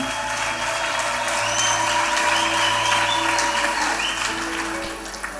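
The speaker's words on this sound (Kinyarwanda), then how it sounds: "Tuyikomera amashyi menshi cyane" Steady applause from a wedding crowd, a dense wash of clapping that holds for several seconds and eases slightly at the end.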